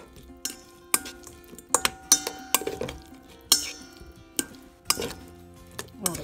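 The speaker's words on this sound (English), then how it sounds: "I'm going to mix it up, everything" Grilled chicken tossed with mango salsa in a bowl, with a utensil scraping and knocking against the bowl in irregular clinks and soft stirring sounds, close and unaccompanied.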